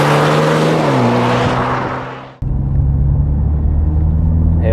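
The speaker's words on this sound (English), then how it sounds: "Hear that intake noise there" A 2020 MINI Clubman's engine rises loudly in pitch as the car accelerates, drops off sharply at a gearshift, then settles into a steady, deep rumble close by with no voices.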